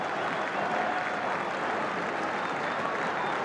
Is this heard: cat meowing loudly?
no